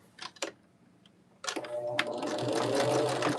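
Sewing machine backstitching a quilt block: a few sharp clicks and taps, then the motor whirs up into a steady, close stitching run that keeps going to the end.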